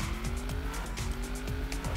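A race car in the tabletop racing game Table Top Racing World Tour, its engine a constant loud drone with repeated rising and falling gear whines and tire squeal running through, close and continuous, with no voices.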